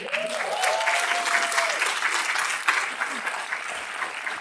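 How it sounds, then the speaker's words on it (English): Audience applause at a talk on building an aviation career, a dense, steady wash of clapping that stays loud and even throughout with no voices over it. "The applause are nice now."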